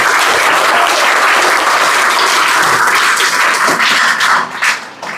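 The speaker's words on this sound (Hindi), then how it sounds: "तालियां" Loud, continuous clapping from a class of students cheering a classmate's 99 in maths on the CBSE Class 10 results, filling the whole clip close to the mic and tapering off near the end.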